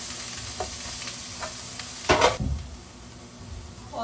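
Vegetables sizzle steadily in hot oil in a pan, with a few light stirring taps and then one loud scraping push of the spatula partway through before the frying hiss settles again.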